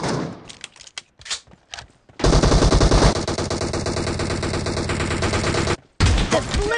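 Automatic gunfire in the mobile battle royale game PUBG Mobile: a few scattered single shots, then a long, loud, sustained burst of rapid fire that cuts off briefly and resumes.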